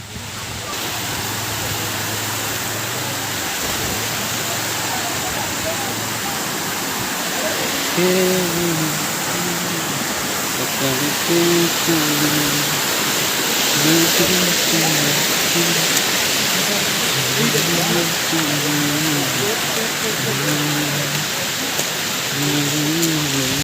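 Water rushes over a dam as a constant, loud broadband roar. A person talks over it for much of the time.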